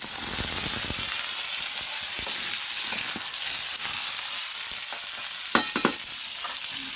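Pumpkin pieces fry in a pan, giving a steady broadband sizzle throughout, with a few sharper crackles and pops standing out near the end; no voices.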